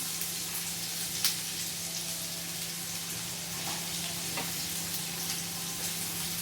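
Two small green chilies sizzle on a hot tawa, giving a constant, even hiss with a few faint crackles and no voices.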